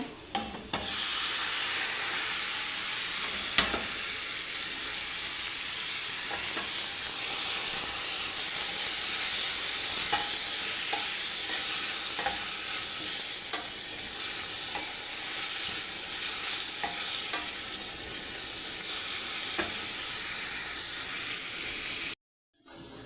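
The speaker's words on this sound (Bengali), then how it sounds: "টমেটো কাটা শেষ এখন টমেটোগুলি দিয়ে দিব" Tomatoes and eggs fry in a hot pan with a loud, steady sizzle and hiss that runs unbroken, with occasional stirring clicks, until it cuts off abruptly near the end.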